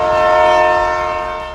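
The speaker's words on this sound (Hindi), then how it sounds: "रेलवे ट्रैक पर लोकल ट्रेन चलने के लिए तैयार थी" A local train at Ambernath railway station sounds a loud, sustained horn blast up close, fading slightly at the end.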